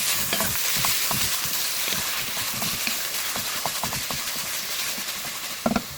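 Marinated keema mince being stirred in a pan, with steady sizzling and frying and a string of spoon scrapes and clicks throughout, close and fairly loud, with no talking.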